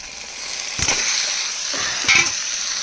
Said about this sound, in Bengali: এবারে আমি চিকেনটাকে দিয়ে দিচ্ছি।